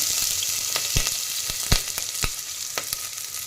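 Cumin seeds, urad dal and cut green chillies fry in hot oil with a continuous crackling sizzle, punctuated by several sharp pops and spatters at uneven intervals.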